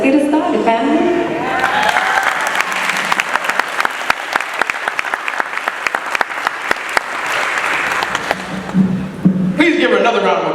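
Loud audience applause at a live event, dense clapping with sharp individual claps standing out, swelling for several seconds and dropping away near the end as voices and talk return.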